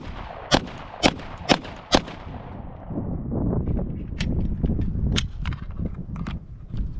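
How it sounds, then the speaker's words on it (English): A Glock 17 pistol fires rapidly at a paper target: four loud, sharp reports in quick succession, then a stretch of fainter, irregular cracks over a rumbling range background. "I'm going to be doing 3 rounds of 5 shots each time with a fresh target"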